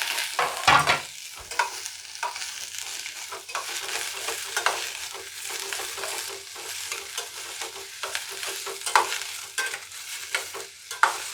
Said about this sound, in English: So I'll first saute it in the oil for some time.